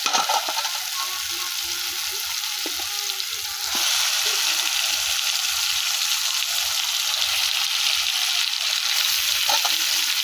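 Spice paste frying in a pan in a Bangladeshi village kitchen, a steady broadband sizzle that grows louder partway through, with a few light scrapes of stirring and no talk.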